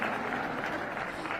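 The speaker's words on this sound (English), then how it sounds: "Hold for applause now." Steady, close applause from a large audience at the Trump Accounts summit with President Trump fills the whole moment, a dense, unbroken patter of clapping hands without speech.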